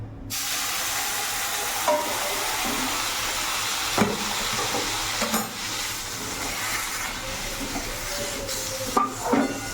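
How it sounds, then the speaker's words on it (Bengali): Hot water poured onto hot frying semolina, giving a sudden loud steamy hiss that carries on as a steady spray-like rush, broken by a few sharp clicks and knocks, no talking. "এখন অল্প করে গরম জলটা দেবো পুরোটা দেবো না"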